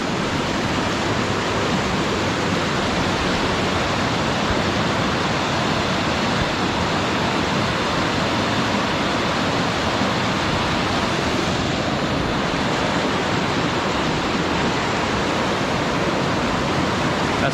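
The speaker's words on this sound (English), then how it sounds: "Yeah, river's super high." A high, swollen river rushing close by, a steady loud broadband roar of water that continues unbroken without any talk.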